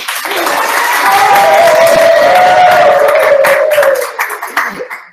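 An audience applauds as Manon Baudin is welcomed, sustained dense clapping that swells and holds loud for several seconds before thinning and tapering off at the end.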